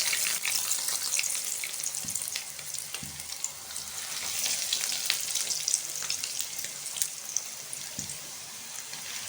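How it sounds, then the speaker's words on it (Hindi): Bread pocket pizza sandwiches deep frying in hot oil, a dense continuous bubbling sizzle with fine crackles, close and steady, with a couple of faint low bumps from the pan. "ऑयल यहाँ पे अच्छी तरह से गर्म हो चुका है। अब हम इनको तल लेंगे।"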